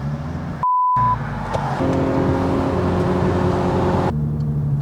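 A VW R32 with a troubled gearbox drives along, its engine droning steadily and close, with brief dropouts and a tone change as it shifts into third gear.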